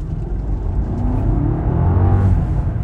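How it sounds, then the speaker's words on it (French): A car engine with its exhaust valves removed rumbles and revs up with a raw, throaty exhaust, the pitch rising steadily, close by with no talking. "J'ai enlevé les clapets pour voir ce que ça donne comme ça."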